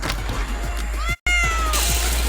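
A cat at a large competition event lets out a drawn-out meow, then a second cry, over a constant loud background noise.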